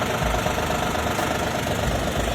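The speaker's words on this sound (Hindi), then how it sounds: "ये जो आवाज़ आ रही है वो आपको इंजन की आ रही है" Wagon R LXI CNG car engine idling steadily, a continuous close mechanical drone with a slight knocking rhythm and no talking.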